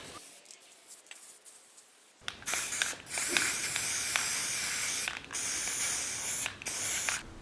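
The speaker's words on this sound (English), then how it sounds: "I used some black spray paint I had laying around to put a target onto the front of it" Black spray paint sprayed onto a wooden throwing target, starting with a faint rattle, then a loud, close, continuous aerosol hiss broken by short pauses between bursts.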